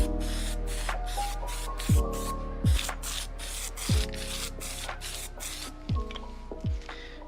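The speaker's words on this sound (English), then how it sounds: "So let's spray." Spray adhesive misting onto craft foam outdoors in short bursts, a hissing spray repeated about nine times in quick succession, with a few soft rubbing thuds between bursts, close and fairly quiet.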